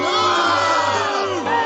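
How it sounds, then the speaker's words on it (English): A large outdoor crowd boos and heckles J.D. Vance, its massed voices forming a loud, sustained jeering drone that dips briefly before swelling again. "videos of J.D. Vance being mercilessly booed and heckled with chants"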